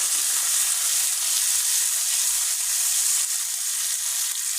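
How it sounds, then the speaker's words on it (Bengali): Onion, tomato, dried chili and nigella seeds fry in a pan with a loud, dense, unbroken hiss of sizzling oil heard close up. "কালো জিরে দিয়ে দিব শুকনো লঙ্কা পেঁয়াজ টমেটো দিয়ে দিব লবণ একটু কষাবো"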